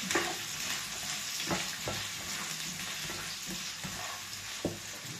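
Chopped onion frying in hot oil in a pan, a steady broadband sizzle with a few soft clacks of stirring, close and alone, no voices.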